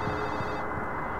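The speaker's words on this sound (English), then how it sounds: "Well, that's getting really loud. That phone." A ringing telephone in the horror video game Silent Hill 4: The Room, a steady electronic bell trill that sounds muffled and somewhat distant, briefly cutting off midway while low ambient drone continues beneath.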